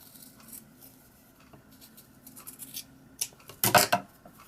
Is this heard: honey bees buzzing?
no